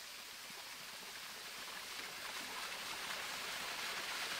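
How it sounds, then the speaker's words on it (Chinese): A waterfall along a hiking trail in Lung Fu Shan, Hong Kong, rushes in a steady, dense wash of flowing water that grows slightly louder, with no voices. "听到流水声。 前面有瀑布"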